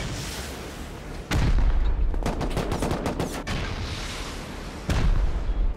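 Heavy gunfire in the video game Rust during a raid on a clan compound with turrets, continuous loud barrage with rapid bursts and booming shots, no talking.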